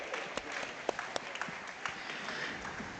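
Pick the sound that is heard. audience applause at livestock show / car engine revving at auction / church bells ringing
audience applause at livestock show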